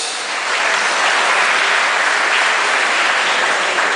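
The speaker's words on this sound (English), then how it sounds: "So a huge round of applause to all our teachers." Sustained, even applause from an audience for teachers at a college department farewell speech, a dense wash of clapping that holds steady for several seconds with no speech over it.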